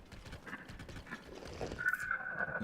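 A stable horse in Zelda: Tears of the Kingdom clip-clops with a quick rhythmic patter of hooves, moderately close, followed by a short whinny-like call near the end, with no talking.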